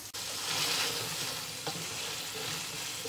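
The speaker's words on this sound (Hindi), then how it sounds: "अब हम 3 से 4 मिनट मजीद भुनेंगे, पानी एकदम ड्राई कर लेंगे।" Beef fries in a pan with green chillies, ginger and coriander for Peshawari kali mirch namkeen gosht. It makes a steady close sizzle with occasional stirring scrapes and no talking.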